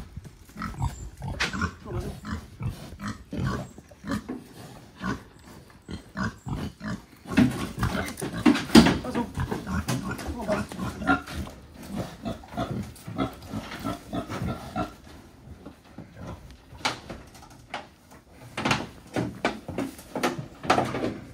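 Two boars are loaded onto a livestock trailer bound for slaughter: grunts and squeals mix with hollow thumps, scrapes and clanks of trailer gates and footing, close and uneven in bursts, with no talking.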